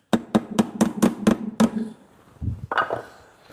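A paint can lid is tapped shut with a small piece of 2x2 wood, giving seven sharp, evenly spaced knocks in quick succession, followed by a duller thud and some scraping handling noise, with no talking.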